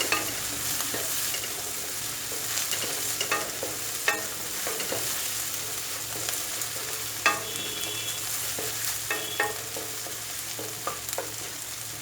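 Ingredients for a quick poori potato masala sauté in a hot pan until light brown, with a steady, close sizzle and the occasional scrape and clink of a spoon stirring through, and no voices.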